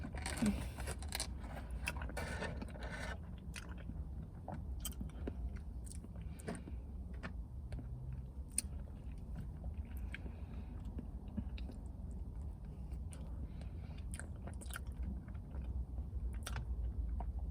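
Someone eats a slice of Oreo Dream Extreme cheesecake from The Cheesecake Factory, with soft chewing and bites close up, plus small crunches from the crust over a steady low background hum.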